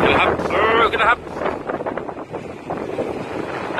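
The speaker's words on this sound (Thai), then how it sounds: "อาจจะมีเสียงลมเยอะนะครับเพราะลมแรงมาก" Strong wind buffets the microphone during parasailing at sea behind a tow boat, a loud continuous roar with gusty surges, while excited voices talk over it.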